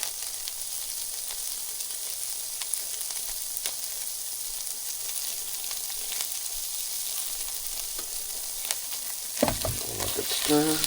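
Creamy garlic herb chicken pasta sizzles steadily in a pan, a constant frying hiss that runs throughout, with a spoon scraping and stirring more loudly near the end.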